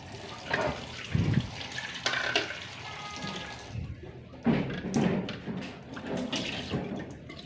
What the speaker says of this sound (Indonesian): Di sini 2 bagian terong ini sebaiknya kita cuci terlebih dahulu.